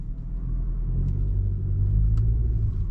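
2013 Chevrolet Malibu with a C0040 wheel speed sensor fault, coasting slowly backward, a steady low engine rumble close by with faint creaks and no talking.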